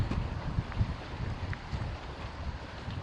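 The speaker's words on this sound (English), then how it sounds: "as I thought, it is gonna be a windy one" Wind gusts at a lakeside campsite in August, buffeting the microphone with low rumbling noise that swells and eases, fairly soft and alone.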